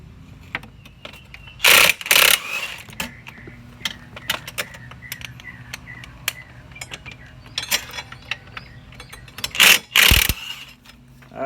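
Ratchet clicking as a long extension turns 17 mm bolts on a Sea-Doo jet ski during impeller and wear ring work; a few short bursts of metallic clicking, close and fairly loud, with quieter handling noise between.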